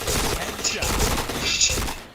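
Gunfire in a video game as a headshot lands, delivered as a dense, continuous burst of shots filling the whole moment, loud and close, with talking in the game mixed underneath.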